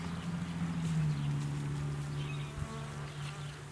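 Honeybees from a newly installed package hive drone in a close, steady hum that shifts slightly in pitch as they cluster around the queen.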